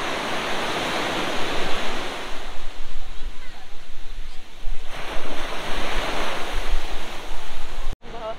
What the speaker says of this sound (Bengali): তোমরা নিশ্চয়ই ঢেউটা শুনতে পাচ্ছ,